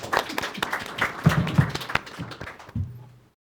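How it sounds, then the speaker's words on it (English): A short burst of applause from a small crowd, scattered claps rising then tapering off to silence. "Let's little applause for this great group."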